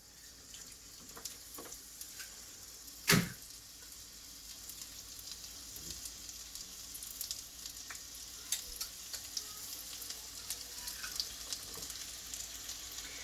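Apple pieces fry in melted butter in a pan, a steady soft sizzle with small crackles and pops throughout, broken by one sharp clack near the start, with no talking.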